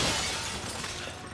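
Glass shatters in Resident Evil 5, a single bright crash that opens loudly and fades into a hissy tinkling tail over low ambient rumble.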